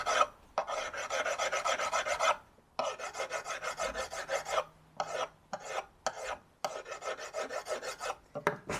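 A metal file rasps along the edge of a 16mm drill bit during sharpening, close and steady in repeated back-and-forth strokes with brief pauses between them.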